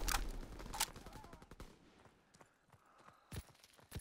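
Bursts of submachine-gun fire in a WWII-era shooter game, sharp rapid shots at the start, then scattered distant pops and impacts, with a renewed close burst near the end.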